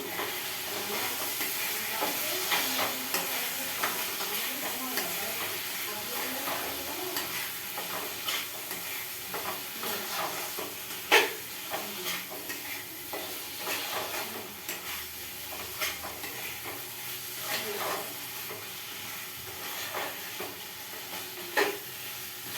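Shrimp sautéing in oil in a pan, being stirred, gives a steady close sizzle with scraping and clinking of the spatula throughout, and a few sharper knocks. No voices.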